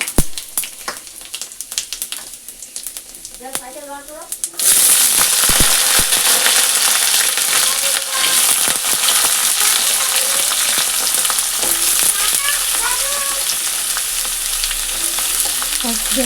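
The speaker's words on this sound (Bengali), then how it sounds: "তেজপাতা শুকনো লঙ্কা আর জিরা ফোড়ন মিলিয়ে ফোড়নে দিয়ে দিলাম" Bay leaf, dried red chili and cumin seeds hit hot oil as a tempering for a vegetarian curry. After a few quiet seconds a loud, steady sizzle and crackle erupts and keeps going close by.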